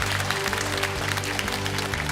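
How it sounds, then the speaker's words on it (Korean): Applause from a public deliberation assembly of 500 citizens discussing electoral reform: steady clapping from a large crowd, with a low hum underneath, moderately loud and continuous for a couple of seconds. "박수 한번 주시죠"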